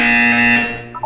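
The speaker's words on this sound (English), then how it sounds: "When you hear the buzzer, look down at the floor." A loud, steady electronic buzzer tone from the video game Portal 2 sounds alone for about a second, then cuts off with a brief flicker of other tones at the end.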